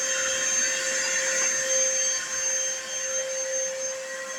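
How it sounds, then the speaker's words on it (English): An air compressor powered by an ALLPOWERS 2000S portable power station, a steady close electric whine with a strong tonal hum, running continuously without speech. "Turn this compressor here on."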